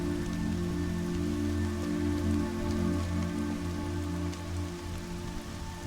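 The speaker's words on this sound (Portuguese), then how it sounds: "Tá chovendo." Steady, even rain falls throughout in the video game Horizon Zero Dawn, a continuous close hiss of drops on surfaces over a low sustained tone, with no talking.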